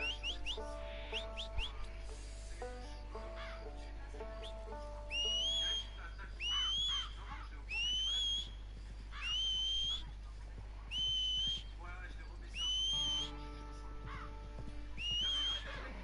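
In the video game Red Dead Online, a series of two-note rising whistles calling a horse repeats at steady intervals over a low hum and soft background music, clear and fairly close.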